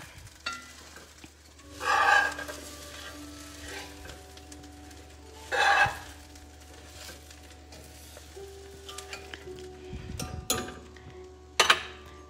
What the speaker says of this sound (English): And I'm going to stir it well.